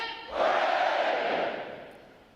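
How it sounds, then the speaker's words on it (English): Graduating U.S. Navy recruits at a boot camp graduation at Recruit Training Command Great Lakes roar a massed hooray in unison, one loud sustained shout that swells quickly and then slowly fades. "The adjutant will lead all graduating divisions in 3 cheers for this morning's award recipients"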